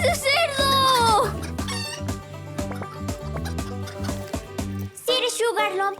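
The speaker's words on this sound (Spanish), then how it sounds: "¡Detengan a las gallinas!" Animated cartoon chickens cluck and squawk in quick bursts over busy music, with voices chattering and exclaiming among them.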